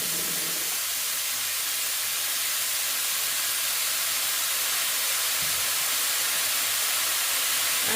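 Butter mushrooms frying in a pan over a raised gas flame, a steady loud sizzling hiss that runs unbroken throughout, with faint stirring underneath.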